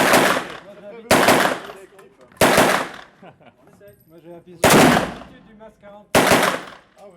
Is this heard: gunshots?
yes